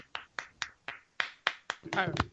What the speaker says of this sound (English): We're clapping now